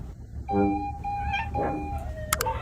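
An orange cat gives a long, drawn-out complaining meow while being bathed, its tone sliding and wavering, followed by a couple of short sharp sounds near the end.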